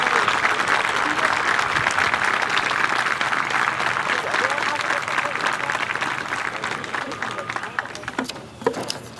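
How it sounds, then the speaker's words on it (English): Audience at a high school JROTC awards ceremony claps steadily for the cadets, a loud, even crowd applause with some murmuring that holds for several seconds and tapers slightly at the close. "Let's give these and all the cadets a big round of applause."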